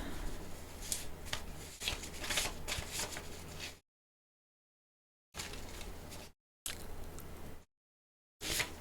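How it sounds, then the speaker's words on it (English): Cards being handled and drawn from a shuffled deck, a dry papery riffle and slide in several short close bursts separated by silent gaps. "Let me get one more card."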